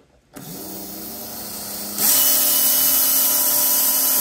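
A 2.5 ohm Viper RC electric motor spins up on a dyno, starting with a sudden whine that holds steady and then jumps to a higher, louder pitch partway through, with a sustained tonal buzz and no voices.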